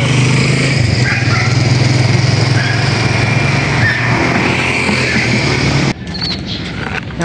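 A motorized tricycle passes close by with a loud, steady engine drone and low rumble that holds for about six seconds before dropping off abruptly into quieter street noise.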